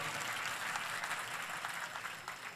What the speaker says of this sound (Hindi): तो एक बार सभी मंच के अतिथियों के लिए जोरदार तालियां होंगी